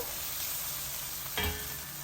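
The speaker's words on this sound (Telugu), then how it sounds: "ఉల్లిపాయలు మంచిగా వేగిపోతున్నాయి" Onions frying with ginger-garlic paste in a pan for a ripe mango curry, a steady broadband sizzle with a brief stir or clatter near the end, no talking.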